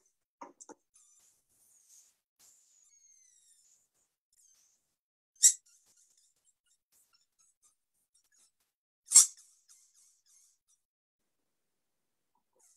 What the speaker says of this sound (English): if you take a balloon and you squeeze the neck and you let air stream out of this